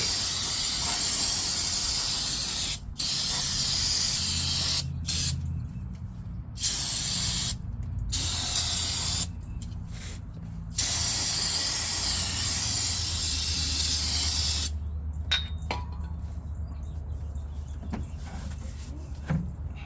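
Repeated hissing bursts from a spray can of cleaner onto engine parts, long sprays broken by short pauses, close to the microphone, followed by quieter trailing spritzes.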